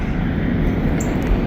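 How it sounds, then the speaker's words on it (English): A train passing on a rail line in Wyoming, a loud, continuous low rumble and roar close by, with no voices. "Got another train coming up the line in Wyoming this morning"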